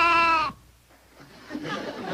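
A goat gives a loud, close, wavering bleat at the start, then it cuts off into quiet with faint rustling and a soft voice-like murmur afterward.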